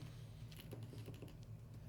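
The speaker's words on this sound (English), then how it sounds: "It's a keyboard, so it can type." Keys clack in a quick, uneven run of soft taps on a USB-C split keyboard, close and fairly quiet with no voice over them.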